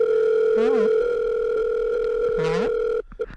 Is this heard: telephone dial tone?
yes